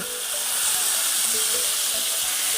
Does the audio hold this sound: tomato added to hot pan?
yes